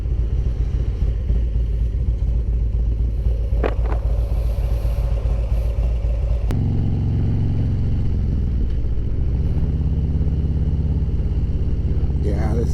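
A 2018 Harley-Davidson Road Glide Ultra motorcycle cruises on the road between Seattle and Issaquah, a steady low engine rumble with wind roar that shifts in pitch midway as it changes gear, with a rider speaking over it.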